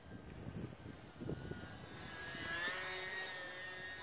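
A Horizon Hobby Carbon Cub SS UMX radio-controlled plane makes a takeoff pass with flaps deployed, its small electric motor and propeller whining steadily and rising in pitch as it nears, with outdoor rumble underneath.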